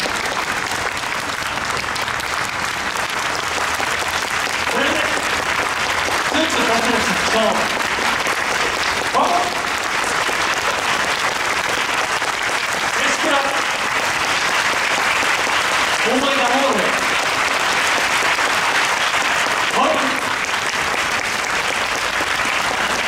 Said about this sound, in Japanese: 大きな拍手をお願い申し上げます